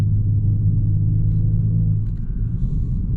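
Genesis G70 3.3T AWD sedan driving on a mountain road, a deep, loud, steady engine and road rumble from inside the car, easing slightly toward the end with no talk.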